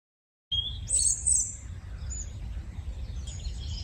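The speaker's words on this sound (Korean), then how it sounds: "새들의 지저귀는 소리가 조용한 아침을 깨웠다." Birds chirp and tweet on a quiet morning, with a few high calls near the start over a steady low rumble of ambience, moderately close, with no talk.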